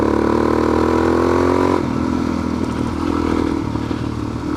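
Suzuki DRZ400S dual-sport motorcycle accelerating hard in third gear on a washboard dirt road, its engine droning loud and steady close to the rider, then the pitch drops and the exhaust roughens with clattering under load.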